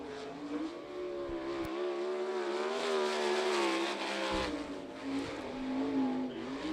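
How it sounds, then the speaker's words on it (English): A sprint race car, the Jiffy Lube 1X car from Thomasville, laps a dirt speedway during qualifying, its engine roaring loud and steady with rising and falling revs through the turns. "Now on the clock out of Thomasville, the Jiffy Lube 1X car."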